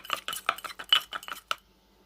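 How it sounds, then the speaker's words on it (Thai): Shallots are pounded in a mortar for a Thai grilled eggplant and fish sauce dish, a quick run of about a dozen close, sharp knocks in a steady rhythm that then stops. "เอา หอมแดงลงก่อนค่ะ แล้วก็ตำให้ มัน เข้ากันอีกที่หนึ่งค่ะ"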